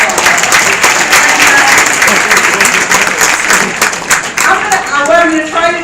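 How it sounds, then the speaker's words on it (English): A large audience claps loudly and continuously, a dense close wash of applause that thins slightly near the end as a voice starts talking over it. "give yourself a big round of applause"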